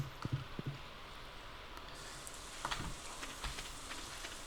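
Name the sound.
thunderstorm rain in video game Stardew Valley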